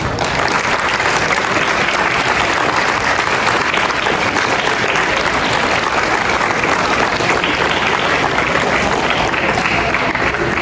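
An audience at an eighth-grade celebration gives a round of applause, dense and loud sustained clapping from a large crowd that holds steady throughout without voices.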